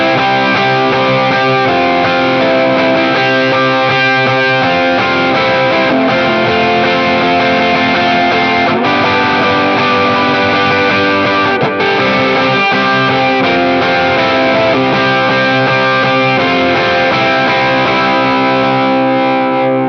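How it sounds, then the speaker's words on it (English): Electric guitar run through a Tube Screamer overdrive and a delay, playing a worship song in thick, sustained distorted chords with echoing tails, loud and continuous with slight changes at each chord. "And I turn on the tube screamer and the delay,"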